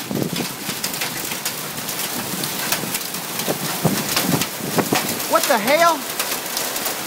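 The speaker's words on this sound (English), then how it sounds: "we got some major hail hitting the ground right now. You can hear it on this tin roof." Hail hammers a tin roof during a severe storm in Hammond, Louisiana, a dense steady drumming patter with sharper individual hits throughout, while a man briefly exclaims over it.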